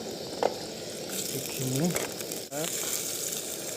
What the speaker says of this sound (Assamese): পিঁয়াজ জ্বালা